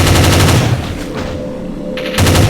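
Rapid bursts of gunfire from the zombie shooter game Dead Target, loud and close, one burst at the start and another at the end with a brief lull between.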